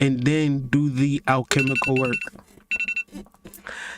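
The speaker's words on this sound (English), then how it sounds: "That's my alarm." A phone alarm rings in repeated short electronic bursts under and between a person's talking, with steady tonal beeps carrying on after the voice pauses.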